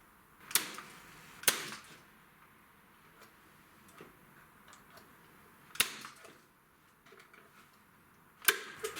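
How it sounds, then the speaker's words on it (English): A nail gun drives nails through fencing board into the roof of a wooden bird nesting box, four or five sharp, separate snaps spaced irregularly, with quiet handling between them. "we're going to nail this on with the use of our nail gun"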